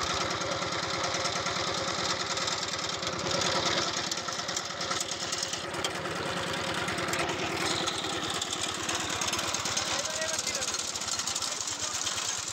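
A power tiller engine chugs steadily as it drives a Chinese potato harvester fitted in place of the plough. The pulsing knock is loud and continuous, with a noisy mechanical rattle layered over it throughout.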